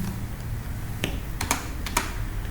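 A handful of sharp keystrokes on a computer keyboard while entering an Excel IF formula, clicking sparsely and close by over a low steady room hum.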